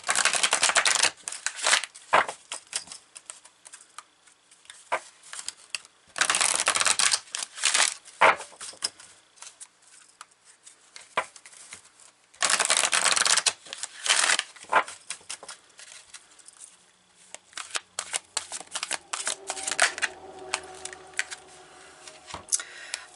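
Tarot cards being shuffled by hand in short papery riffling bursts separated by pauses, close and fairly crisp, with no voices.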